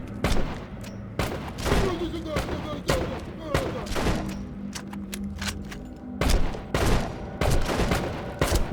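Gunfire in the shooter game You Are Empty, a dense string of sharp, loud shots at irregular intervals with thuds between them, while someone talks excitedly over the shooting.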